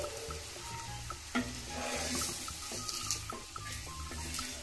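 Raw banana slices fry in oil on a tawa over low to medium flame, giving a faint, steady sizzle with soft clicks and scraping as they are moved.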